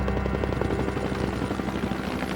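A steady, droning military helicopter with rapid rotor chop, continuous and fairly close, with no voices.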